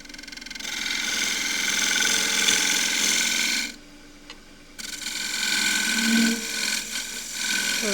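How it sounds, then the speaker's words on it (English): A half-inch spindle gouge thins the rim of a wooden glasses stand turning on a wood lathe, giving a steady close whirring hiss of cutting that breaks off briefly midway, then resumes with a rising scrape. "And I will now just thin the rim. 1/2 inch spindle gouge."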